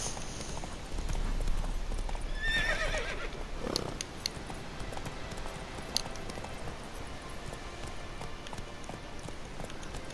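Roach, the horse in The Witcher 3 video game, gallops with rapid, continuous hoofbeats, and a brief whinny rises partway through over steady outdoor ambience.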